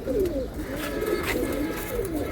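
A boot-beaked pigeon coos in a steady run of low, rolling calls, close and fairly loud, with faint background noise and no talking.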